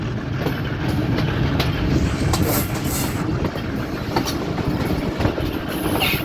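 Rehman Baba Express passenger train rolling slowly onto the main line, a steady loud rumble of wheels and carriages with soft clickety-clack and faint squeals, heard from on board.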